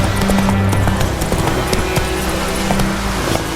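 Roach the horse galloping in the game The Witcher 3, steady rhythmic hoofbeats thudding close and loud over a continuous windy rush of movement.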